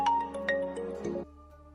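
A phone ringtone plays a bright melodic tune, loud and close, ending abruptly after a couple of seconds.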